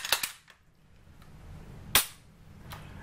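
Sharp mechanical clicks from a Walther PPQ M2 pistol, a quick double click at the start, then a louder single snap about two seconds later and a fainter one after, close and without talk.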